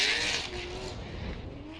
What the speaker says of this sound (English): Again, the turbocharged V8 of D-Mac, Darren McNamara.